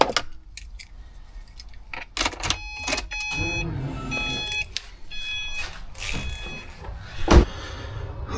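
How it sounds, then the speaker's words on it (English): Keys jangle and click as a car is started for an aftermarket fuel pump control upgrade, with bright chime-like tones and a short loud burst near the end as the engine cranks, all close by without talk. "Turn on the car."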